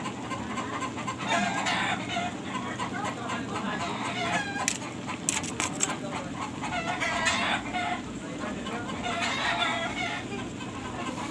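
Several chickens cluck steadily with a rooster crowing now and then, a busy barnyard chorus with a few faint voices mixed in.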